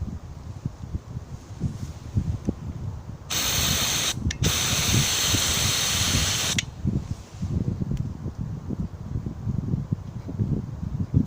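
An Antizver aerosol can made by ZAO Tekhkrim is sprayed outdoors in strong wind, giving a loud continuous hiss of about three seconds with a brief break, amid steady gusting wind noise.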